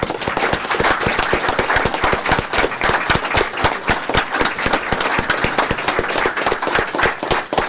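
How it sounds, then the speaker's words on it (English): A city council chamber audience claps steadily and briskly at close range, a dense, even round of applause with no voices over it. "One more round of applause."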